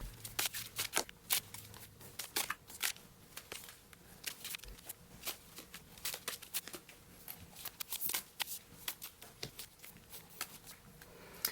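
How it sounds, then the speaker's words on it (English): Tarot cards being shuffled, sped up, give rapid, dense clicks and flutters of card against card, a busy irregular stream of sharp taps at close range with no talking. "I did the speed up shuffling"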